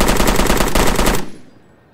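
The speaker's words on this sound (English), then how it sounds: "So let's give this a quick shoot and see what's wrong with it." L85A2 assault rifle in Roblox Blackhawk Rescue Mission 5 firing a fast, loud, close full-auto burst of evenly spaced rapid shots that cuts off abruptly into a short fading tail, with no talking.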